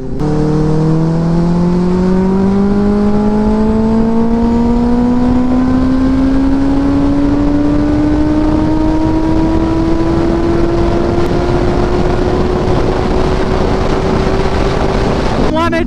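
A Benelli 600i superbike engine revs with a steadily rising whine as RPM climbs over about fifteen seconds. It is loud and close, with wind noise against the microphone.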